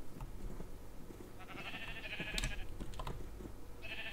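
Sheep in the game Minecraft bleat in short, wavering calls, a couple of distinct bleats against a quiet background with faint clicks.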